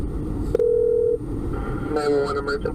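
A phone line for an emergency call to 911 gives a steady single-pitched tone, then a short burst of higher warbling tones over a low rumble, close and clear.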